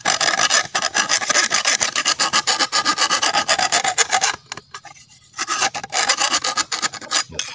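Loud, steady rasping strokes of a sharpening tool scraping a grass cutter machine blade flat, repeated rapidly, with a brief quieter pause midway before the scraping resumes.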